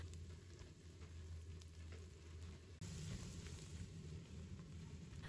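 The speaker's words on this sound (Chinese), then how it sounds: "我们把姜蒜末、小米辣全部放入锅中，继续开小火把它翻炒一下" Minced ginger, garlic and small chili stir-fry in a wok over low heat, with a soft continuous sizzle that grows slightly louder partway through, and no talking.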